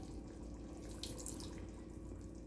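Chili-infused vinegar pours into a pot of simmering pork adobo, a faint, steady liquid trickle and splash against a low background rumble, with no talking.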